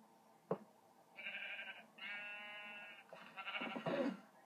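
A Minecraft sheep bleats several times in short, wavering calls, close and clear, with a soft knock at the start and quiet gaps between the bleats.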